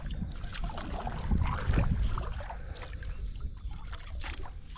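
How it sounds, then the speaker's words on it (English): A kayak is paddled along a river in Maine, with soft water splashes and paddle strokes over light wind noise. "You know how hard it is to paddle with one hand."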